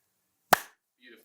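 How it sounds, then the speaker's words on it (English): A single sharp hand clap, close and loud, during an interview with a player of Heroic at the BLAST Premier Spring Showdown, followed by a moment of quiet and then faint background voices. "Clap."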